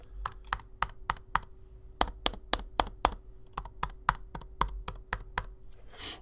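Fingers type on a Lenovo T480s laptop keyboard in quick bursts of crisp, close key clicks separated by short pauses, ending with a soft rustle.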